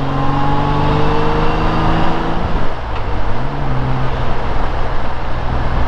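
A Honda Goldwing GL1500 motorcycle rides down off Mount Washington toward the North Shore in Pittsburgh, its loud, close engine drone holding steady and then dipping and shifting pitch under heavy wind rush.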